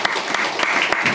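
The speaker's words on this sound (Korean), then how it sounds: "같이 박수 환영하겠습니다." A church congregation briefly applauds to welcome a visiting missionary during a Sunday service, a short burst of dense, even clapping filling the room.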